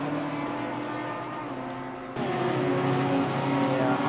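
Porsche and Audi GT3 race cars roar in a PC racing game at Kyalami, a loud sustained engine drone that steps up sharply in pitch and volume midway, with no talk.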